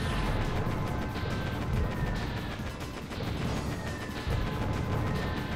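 Rapid weapon fire from the tank in Heavy Weapon: Atomic Tank, with dive bombers overhead: a fairly quiet, dense stream of crashing shots and pops over a steady rumbling bed, no speech.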